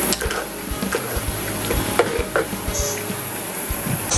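A spoon stirs a pot of Tamil-style fish curry (meen kulambu) with coconut masala and added water, giving close, irregular scraping and clinking strokes over a soft background hiss. Nobody speaks.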